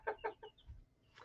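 Chickens cluck softly in a few quick, close bursts, then fall quiet before one more faint cluck at the end.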